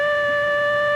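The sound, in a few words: harmonica note changed smoothly by swiveling the harp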